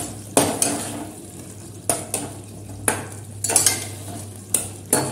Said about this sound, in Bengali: লাউ কুচিয়ে রেখেছি, ওইটা দিয়ে এখন ভালো করে নাড়বো যতক্ষণ না লাউয়ের মধ্যে সমস্ত মশলাগুলো মিশে যায়